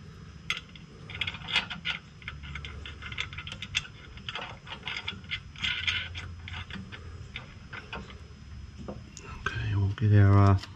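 Small metallic clicks and ticks of parts being fitted, as a spacer and nut go onto a Mitsubishi Colt Ralliart rear sway bar, followed by a short loud ratcheting burst near the end as the nut tightens.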